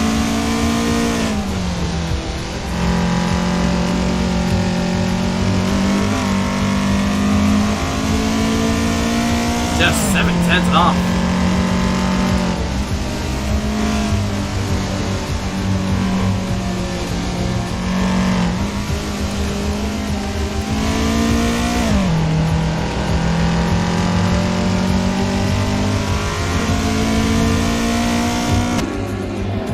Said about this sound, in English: Listening to that Toyota Starlet go once again 2/10 faster than the competition in the final sector